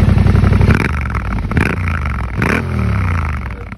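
A Yamaha Tenere 700 twin-cylinder CP2 engine with a Hussar exhaust revs hard in several loud bursts, its throaty exhaust rising and falling in pitch, close by with no voices.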